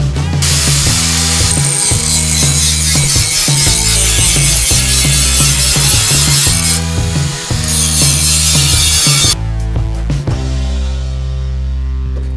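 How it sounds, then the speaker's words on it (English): An abrasive grinding disc bites into sheet metal to texture it, giving a loud, continuous, harsh mechanical whine with rhythmic pulsing that shifts pitch as pressure changes. "Or you can go back to your abrasive grinding disc to achieve a much more heavy texture."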